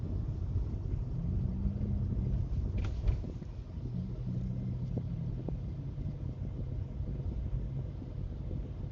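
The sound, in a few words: car engine while driving and shifting to third gear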